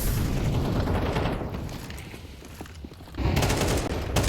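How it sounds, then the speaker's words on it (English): AK-47 gunfire in a competitive video game match, with dense bursts of rapid shots loud in the mix, easing into a lull before heavy firing resumes. "Look at that swing with the AK-47."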